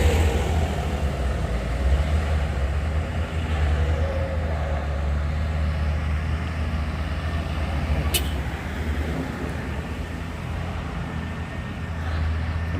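FAW trailer truck straining uphill on a steep road, a continuous heavy low engine roar held at high throttle, loud and steady throughout with a brief sharp click midway.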